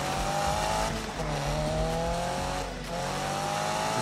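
Cars race and crash in a Need for Speed video game: engines roar continuously with shifting pitch, tires squealing and skidding close and loud throughout, with no talking.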